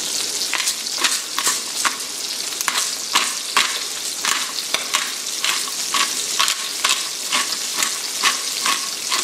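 Chicken livers fry in a hot pan with a steady, loud sizzle broken by frequent sharp crackles and pops, close up and continuous with no talking.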